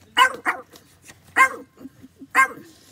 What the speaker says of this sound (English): You are a good guard dog, girl.